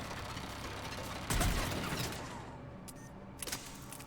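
Deployed automated turret firing in Mass Effect 3: a sharp burst of rattling mechanical shots followed by scattered clicks and a couple of brief bursts against a steady rumbling combat background.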